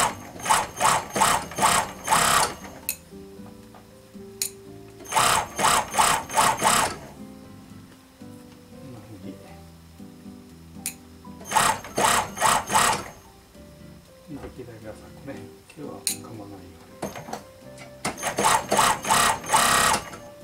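Sewing machine stitching fur for a shadow fox stole, running in repeated bursts of rapid mechanical clatter with quiet pauses between runs.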